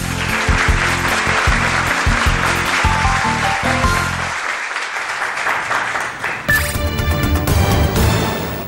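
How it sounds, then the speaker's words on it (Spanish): Studio audience applauding on a televised Spanish-language quiz show, a loud sustained burst of clapping that fades briefly, then swells again with music near the end. "Jorge, un aplauso para él."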